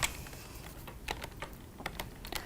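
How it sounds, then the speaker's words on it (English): Quick, light clicks of fingers typing on a computer keyboard in uneven bursts, fairly close and quiet, with no voices. "Notice as I start typing"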